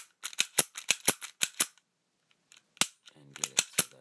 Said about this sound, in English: I usually dry fire it